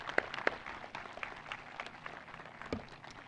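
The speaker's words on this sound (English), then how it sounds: "Seniors, please join us in a round of applause for all that they have done to help you get here." A graduation audience at the West Allegheny high school commencement 2022 gives a faint, distant round of applause, with scattered claps and a soft crowd murmur in a large hall.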